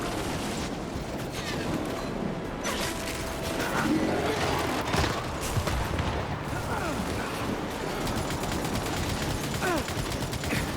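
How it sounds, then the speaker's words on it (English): Steady rattling gunfire and mechanical clanks during a firefight against Scion and bastion enemies in the video game Gears 5, sustained and dense throughout with bursts of heavier shots. "Focus fire on that bastion"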